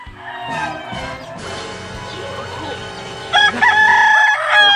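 A rooster crows loudly nearby, its call rising out of a noisy, cluttered background near the end.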